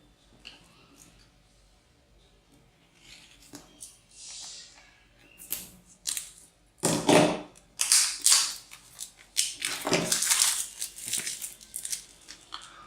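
Redmi 4A phone packaging being opened and handled, with faint crinkles early on building to louder bursts of crushing, tearing and rustling cardboard and plastic, fairly close, with no talk.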